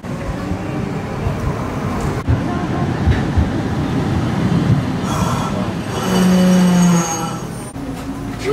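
A Nagasaki streetcar runs along a city street, its steady rolling rumble accompanied by a brief mechanical squeal and hum near the end, with traffic and people talking nearby.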